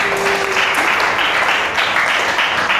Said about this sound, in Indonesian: Ya, tepuk tangan buat semuanya.